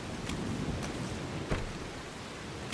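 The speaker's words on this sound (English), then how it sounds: "That is some heavy, heavy rain." Heavy storm rain in the horror video game No One Lives Under the Lighthouse, a steady dense wash of pouring rain with a faint low rumble, unbroken by speech.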